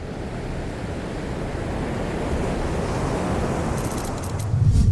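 Ocean surf breaking at Reunion Island, a loud, continuous roar of wave wash with gusty wind buffeting the microphone, swelling slightly toward the end.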